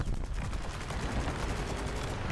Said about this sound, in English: left mouse button for this one is a cannon